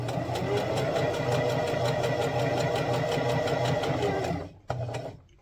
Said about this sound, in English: Sew until your needle is in the fold